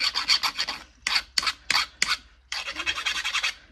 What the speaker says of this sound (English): Just file it down.